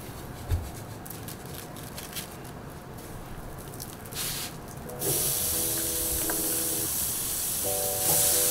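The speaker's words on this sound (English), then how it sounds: "we got some steaks on the grill, and I just love that sound of the sizzle" Steaks sizzling on a grill give a steady, dense hiss throughout, close and fairly loud, growing brighter partway through, with faint tonal background sounds layered under the constant frying noise.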